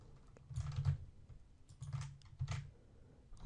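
Fingers type on a computer keyboard in several soft, muffled bursts of rapid key presses separated by short pauses, heard up close.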